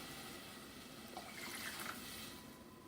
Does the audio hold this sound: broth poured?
yes